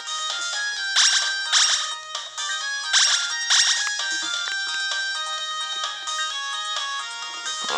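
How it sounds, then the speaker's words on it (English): A synthetic phone ringtone from the video game Densetsu no Stafy 4 chirps in bright repeated bursts, looping steadily for several seconds with no voices over it. "this is probably just teaching us how to use the telephone"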